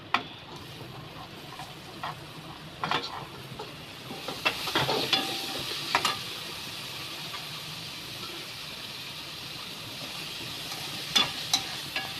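Tomatoes fry steadily in hot oil with hing for a Maharashtrian guar bhaji, a continuous sizzle running throughout, broken by scattered scraping clicks of a spoon stirring the pan.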